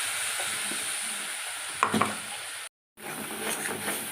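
Poppy seed paste with turmeric and chili fries in a pan with a steady soft sizzle, broken by a few scraping stirs and a brief dropout.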